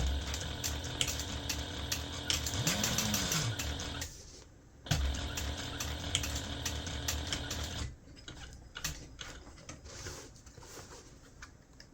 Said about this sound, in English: using a 1/4 inch seam allowance, we're going to sew from the top down to the lower line of top stitching